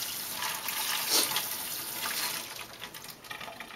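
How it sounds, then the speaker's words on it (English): Raw beef rinsed under a running kitchen tap, a steady close splash of water with slight shifts as the meat moves through the stream. "Just rinse that off a bit."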